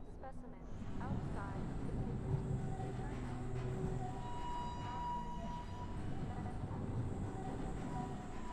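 Tram running on rails in the video game Abiotic Factor, a steady rumbling roll with faint tonal squeals and hums over it, continuous and fairly quiet throughout.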